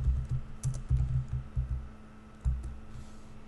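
Quiet, close typing on a computer keyboard while writing an Oracle SQL query: irregular bursts of soft key clicks with short pauses between groups.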